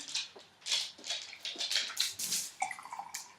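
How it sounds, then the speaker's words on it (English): Very hot water poured from a kettle into a teapot and small cups to warm them while making Japanese sencha, a close, splashing pour in several short bursts with faint trickling between. "pour that into this teapot"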